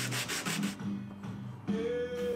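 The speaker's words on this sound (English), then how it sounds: "I can flatten the lid and bottom using some sandpaper on a flat surface to clean off all of the blade marks left by the bandsaw blade" Wooden ring box lid rubbed on sandpaper over a flat surface to remove bandsaw blade marks, making repeated close scratchy back-and-forth strokes with brief pauses between passes.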